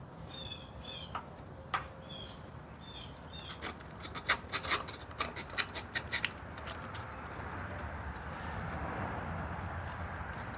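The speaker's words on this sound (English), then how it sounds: "Now I'm just taking a piece of 180 grit sandpaper," A scrap of 180 grit sandpaper scuffs the dirty breaker points of a 1975 Murphys lawnmower, giving a run of quick, dry rasping strokes in the middle, soft and close, amid faint chirping in the background.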